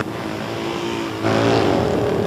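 CCM Rotax vintage racing motorcycle engine at a dirt track, a steady buzzing drone that swells louder midway as the bike draws nearer, with no voices over it.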